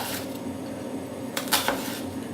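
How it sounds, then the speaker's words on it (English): A kitchen knife making vertical cuts into an onion on a cutting board, heard as a couple of quick soft chops and taps close by, with no voices. "Then comes the vertical cut. Does not completely go through the onion,"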